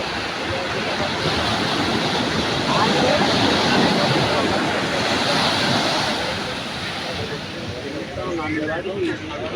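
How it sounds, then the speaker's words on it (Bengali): Big ocean waves breaking at night on Cox's Bazar beach, a loud continuous wash of surf with wind rumble, close and dense throughout. "যে বিশাল বিশাল ঢেউ আপনারা দেখতে পাচ্ছেন"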